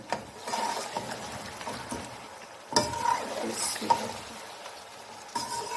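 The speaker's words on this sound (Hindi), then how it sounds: "तो अब हम इसे अच्छे से अदरक लहसुन और ग्रीन चिल्ली के पेस्ट में भून लेंगे।" Beef karahi gosht frying on a high flame in ginger, garlic and green chilli paste, with a steady sizzle broken by scraping stirs and a few louder clanks of the spoon against the pan.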